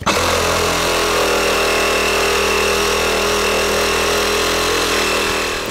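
A power tool with a diamond blade cuts through a concrete slab foundation at close range, a harsh, unbroken roar of grinding that holds steady before easing off slightly at the end.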